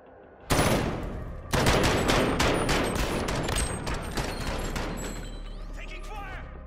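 Dense automatic gunfire in Modern Warfare, a loud sustained fusillade of rapid overlapping shots starting abruptly and rolling on with a brief pause near the start, with voices faintly underneath.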